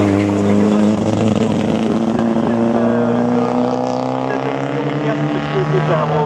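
Race car in a timed slalom competition, the Slalom du Mortanais 2016, its engine loud and close throughout, pitch climbing and falling as it revs through the course.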